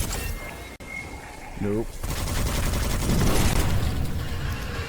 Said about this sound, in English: So I literally get back and I start getting shot at.